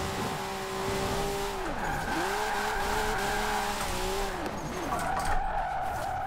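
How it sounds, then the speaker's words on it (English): Car drifting at high speed in Forza Horizon 4, sustained tire squeal that rises and dips in waves over a roaring engine, loud and continuous. "We're gonna try some high speed drifting here."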